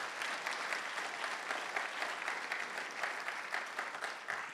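A church congregation gives a long, steady round of applause at a morning service, dense even clapping filling the room without pause.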